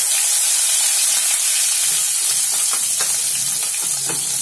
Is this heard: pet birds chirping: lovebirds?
no